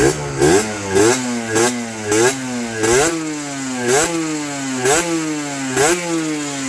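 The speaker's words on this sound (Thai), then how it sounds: "ฟังเสียงเบิ้ลเครื่องนิดนึง" Kawasaki KR150 two-stroke motorcycle engine revved repeatedly, close and loud, each blip rising in pitch and then dropping back to idle in a steady rhythm of about eight revs.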